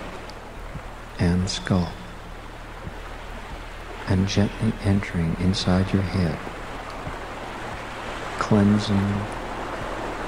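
A steady waterfall rush, a soft even hiss of falling water that runs without a break beneath a calm voice speaking slowly in short phrases.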